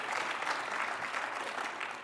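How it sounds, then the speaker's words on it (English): An audience at a candidate forum in Milwaukee County claps in a brief, steady burst of applause from a mid-sized indoor crowd. "you can clap for that too"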